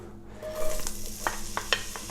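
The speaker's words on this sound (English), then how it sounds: "fry the onion" Finely chopped onions, about 60 grams, frying in 50 millilitres of olive oil over medium-low heat for ginger carrot soup. A steady close sizzle runs throughout, with a few sharp stirring scrapes near the end and no voices.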